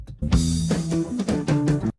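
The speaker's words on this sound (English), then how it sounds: "The drums and bass and everything sounds like this." A full band backing track with punchy drums and a deep bass line, playing steadily and loudly for a couple of seconds before stopping abruptly.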